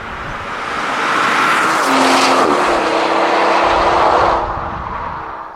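Mercedes S65 AMG with a V12 engine sweeping past, a smooth rising and falling roar that swells to full volume, holds, then fades as it moves away, with no voices over it.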